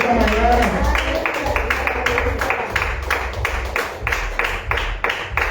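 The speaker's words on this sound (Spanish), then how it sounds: "Démosle un aplauso al Señor Jesucristo en esta mañana." A church congregation claps together in a Sunday morning service, a run of quick, fairly even claps close by and loud, with a voice speaking over them.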